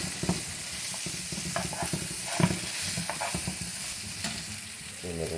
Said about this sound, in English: Cube steaks. Just saute these for a little bit.